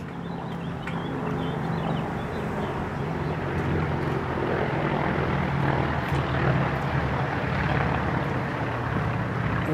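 A low-flying airplane near Myrtle Beach gives a faint, steady droning engine hum, distant and continuous, with no speech.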